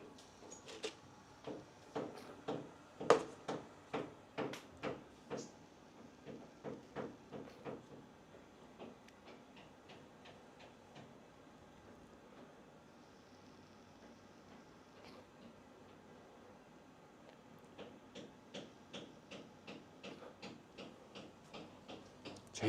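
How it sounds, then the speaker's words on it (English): Repeated hammering comes from neighbouring condos, sharp knocks in fast bursts, some loud and some faint, fading to a quieter stretch before picking up again, heard from a distance indoors. "What could you need to hammer for 4 hours?"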